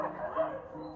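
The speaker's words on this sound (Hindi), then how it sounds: "हाँ तुम भौंक लो पहले" A dog gives a brief, muffled bark or yip indoors, heard close but faint for about a second.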